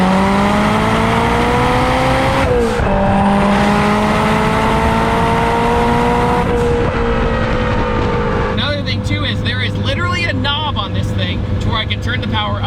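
A 1992 Toyota MR2 sports car running on E85 with 707 wheel horsepower drones and climbs in pitch through the gears with gear-change dips, then shifts to a lower steady hum with chattering sounds layered on top.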